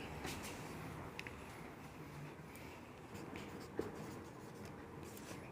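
Pen or chalk writing out a chemistry heading during a Class 10 lesson on acids, bases and salts, a soft continuous scratching with brief louder strokes over a steady low room hum, no talking.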